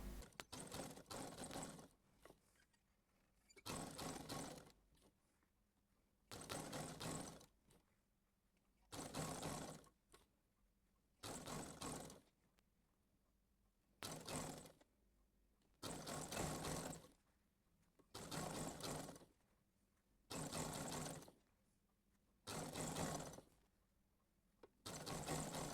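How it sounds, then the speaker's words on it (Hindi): A sewing machine stitches a fabric drawstring in regular bursts of rapid needle clatter, each lasting about two seconds with short quiet pauses between, close by and with no talking. "तो चलें सिलाई लगाते हैं।"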